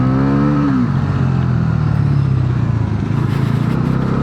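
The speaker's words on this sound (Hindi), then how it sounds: "All new Pulsar NS 400Z 2026 model 350 CC engine वाली बाइक को आज हम राइड करके देखने वाले हैं।" A 2026 Bajaj Pulsar NS400Z with a 350cc engine revs up under riding, a steady loud engine drone that climbs in pitch before shifting down and settling into a continuous close-up road roar.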